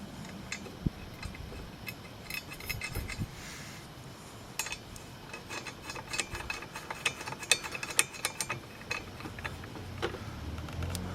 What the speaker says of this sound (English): I'm going to torque the variator nut to 40 foot-pounds.